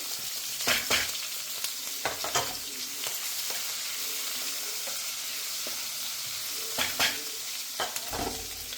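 Green chillies fry in a pan for a spiced Punjabi-style greens dish, a steady close sizzle broken by repeated sharp scraping bursts of stirring.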